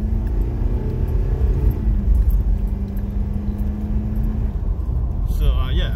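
A 1993 Toyota Hilux Surf with a 1KZ diesel engine drives along, giving a steady low engine drone and road rumble with some rattling, while someone talks over it.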